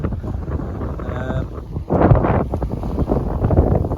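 A reefed sailboat under main and staysail pitches through a choppy sea en route from Marmara to Ereglisi. Gusty wind buffets the microphone in loud, uneven roars, with a sharper rush of wind and water at about two seconds.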